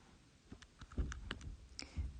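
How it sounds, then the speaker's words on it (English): Soft plastic clicks of keys being pressed on a calculator, scattered taps at an irregular pace, quiet and close, with no talking. "I'm just typing that in my calculator now."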